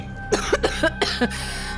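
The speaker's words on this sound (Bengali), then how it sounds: "কাশিটা পুরোপুরি নির্মূল হতে আরো কটা দিন সময় লাগবে" A cartoon character's string of short coughs, about five harsh bursts in quick, uneven succession over steady background music, with no speech.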